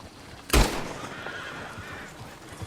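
A horse in Red Dead Redemption 2 whinnies once, loud and close, a sharp burst that trails off into a fading breathy tail over quiet background noise.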